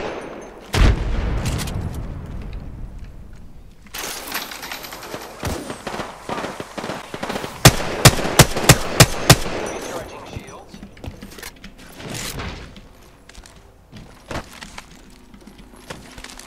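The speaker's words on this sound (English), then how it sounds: "They're shooting at me." Gunfire from the shooter game Apex Legends crackles in scattered single shots and then a rapid burst of loud cracks, with dense automatic fire trailing off into sporadic shots.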